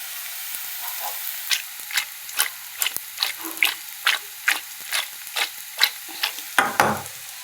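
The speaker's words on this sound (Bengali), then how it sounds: "এদিকে এইটা তোমার পেঁয়াজটা ভাজা হচ্ছে" Onions fry in hot oil in a pan, a soft continuous sizzle punctuated by a rhythmic series of sharp scraping stir strokes, close and moderately loud.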